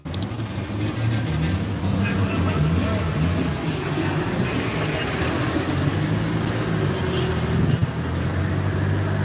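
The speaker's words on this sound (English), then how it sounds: "There's the dyno." A car runs on an outdoor dyno, a continuous loud engine drone and roller whir that holds steady throughout with a faint voice in the background.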